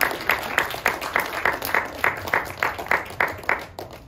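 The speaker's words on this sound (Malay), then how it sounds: "Tepuk tangan semua." Applause at an official product launch ceremony for a new health product: a steady run of roughly a dozen evenly spaced claps, moderately close and fairly faint, with no voices over it.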